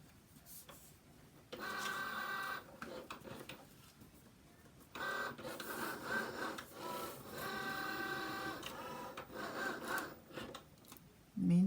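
A Cricut cutting machine works on paper, its motor whirring and scraping in several separate bursts of a few seconds each, broken by short quiet pauses, close and moderately loud.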